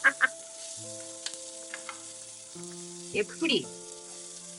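Onions sautéing in a pan for Kongunadu white biryani give a quiet, soft sizzle beneath steady tonal background sound, broken by a couple of short bursts and a brief spoken word.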